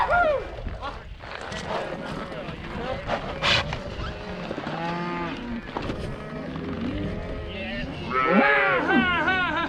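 Cattle being pushed across a mountain toward a water hole moo repeatedly, several long, wavering calls from different animals near and far, louder toward the end, with background noise and light outdoor sounds around them.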